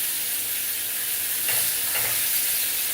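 Canned salmon and leftover white rice fry in a little oil, giving a continuous dense sizzle with brief stirring bursts, close and steady.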